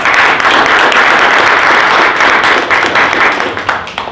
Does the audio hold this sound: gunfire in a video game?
no